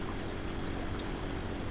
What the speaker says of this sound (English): Oh, it is draining.